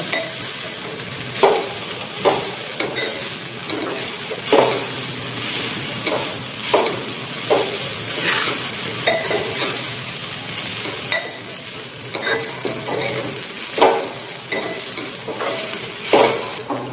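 Poha upma stirred and mixed in a hot pan, with a spoon scraping and clinking against the metal in irregular strokes over a soft, steady sizzle, close and alone without talk.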